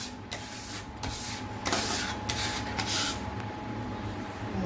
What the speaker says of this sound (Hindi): ये जो हमने इलायची और जायफल को पीसा था, यानी उसको अभी एक मशीन से, यानी कि वो ग्राइंडर में डालेंगे, उसके साथ बादाम डाल रहे हैं।